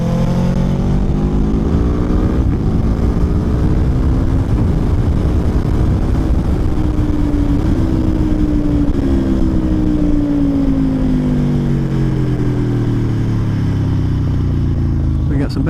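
A 2024 Aprilia Tuono V4 Factory motorcycle is ridden through corners, its engine droning loudly and steadily with rising and falling pitch under strong wind rush, heard from the rider's position.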